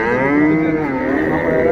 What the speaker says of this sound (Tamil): அருமையான காங்கைய மாடு இந்த மாதிரி தான் இருக்குது